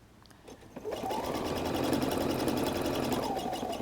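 Sewing machine running steadily as it stitches fabric-covered clothesline rope into a basket, a continuous close whirring hum that starts after a brief pause and holds without talk.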